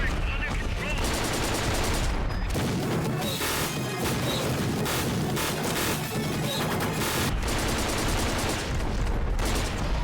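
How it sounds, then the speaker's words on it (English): A C96 machine pistol fires in Metal Gear Solid Peace Walker, a dense, loud, nearly continuous stream of rapid shots with crashing impacts and game noise, broken only by brief gaps. "Machine pistol go brrrr."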